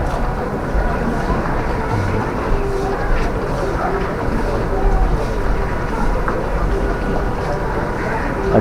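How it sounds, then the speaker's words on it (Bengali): Water falls steadily outside a railway station, a broad continuous rushing wash that stays loud and even throughout, with faint background activity mixed in. "আর জল পড়ছে দেখতে পাচ্ছ।"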